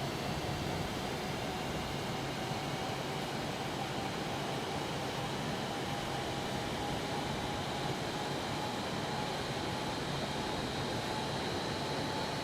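An F-18 jet engine in Microsoft Flight Simulator gives a steady, fairly quiet broadband roar with a faint whine, unchanging for the whole stretch and without any voices.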